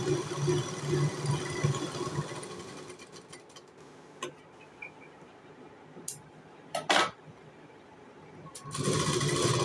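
A sewing machine stitching the lining of a katori blouse: a rapid mechanical stitching run at first, then quieter handling with a few sharp clicks and taps, then more stitching.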